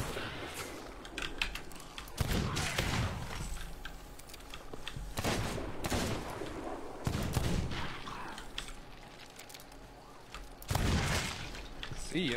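Sniper rifle shots in the pirate game Sea of Thieves ring out as several sharp, loud cracks spaced a few seconds apart, each with a short booming tail, over a steady background bed.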